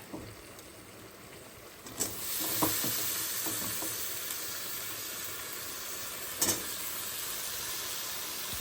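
Potatoes frying in a pan of spice masala, with a constant soft sizzle and hiss broken by a few scraping stirs of the spoon; close and fairly quiet, with no talking.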